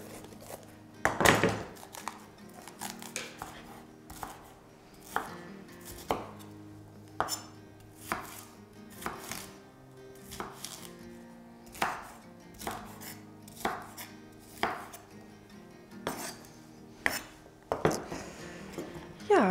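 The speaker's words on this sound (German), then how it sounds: "Die Paprikaschoten in mittelgroße Würfel schneiden." A knife cuts bell peppers into medium cubes on a cutting board, sharp, distinct chops landing in irregular bursts, close and loud, with small clinks between strokes.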